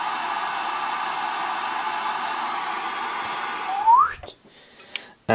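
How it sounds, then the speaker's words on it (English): A signal generator puts out bandpass noise: a loud, steady rushing hiss that runs for about four seconds, then a short rising whistle and abrupt cutoffs, with brief bursts of noise returning near the end. "The signal generator at the moment is doing a bandpass noise,"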